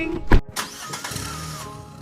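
A car engine cranks and catches with a short loud burst, then settles into a steady low running hum, heard up close at the start of a winter drive toward Glencoe in the Scottish Highlands.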